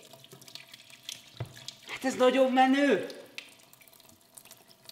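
Tap water splashes into a kitchen sink for about a second while the water pressure drops, a short close rush between quieter moments, with a person speaking around it.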